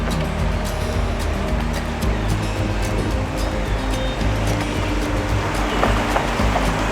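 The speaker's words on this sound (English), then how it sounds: "The waves are crashing against the rocks here." Waves roll and crash against the rocks on Eastbourne beach near Wellington, New Zealand, in a continuous roar of surf. A low rumble sits underneath, and faint intermittent splashes break through on top.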